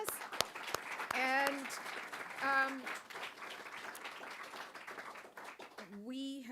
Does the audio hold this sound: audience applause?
yes